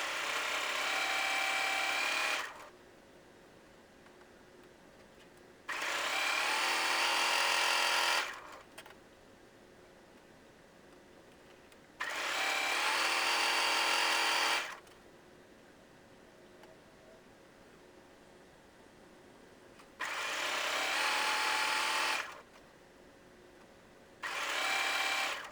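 Sewing machine chain piecing a simple drawstring bag: four long bursts of steady stitching separated by quiet pauses, close and fairly loud, with no talk.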